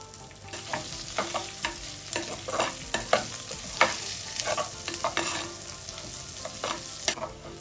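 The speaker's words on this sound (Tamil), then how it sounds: "இந்த சின்ன வெங்காயம் இதையும் நான் இதுக்குள்ளே போட்டு வதங்க விட போகிறேன்" Small onions sautéing in a pan, a steady sizzle with repeated scraping stirs at an uneven rhythm, close and fairly clear with no talking.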